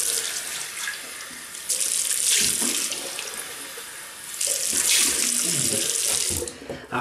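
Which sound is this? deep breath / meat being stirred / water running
water running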